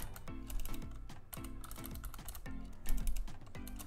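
Rapid computer keyboard typing, a steady run of crisp key clicks in quick bursts close to the microphone, no voices.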